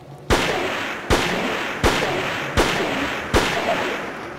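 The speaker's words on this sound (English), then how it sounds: "shoot that guy off the ladder" Five loud, sharp gunshots ring out at an even pace, each with a short echoing tail, in the survival horror video game Siren, fired by a priest character at an enemy on a ladder.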